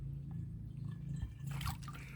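Water splashes and trickles as a tuber cutting is watered, brief liquid pouring sounds over a low steady hum, close and fairly quiet.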